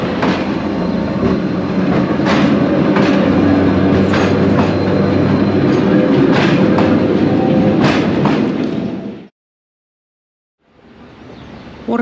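A train rumbles loudly along the rails in Mallorca with rhythmic clacking and occasional squeals, then cuts to silence before faint rail noise returns.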